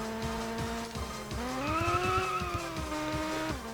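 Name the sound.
car tires skidding while drifting with handbrake in GT Pro Series video game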